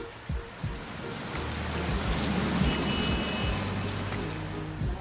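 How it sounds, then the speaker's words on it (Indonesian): Steady rain falls and patters on surfaces in a dense, continuous wash, with a few soft low thumps near the start and no voices. "Hujan tiba-tiba saja turun"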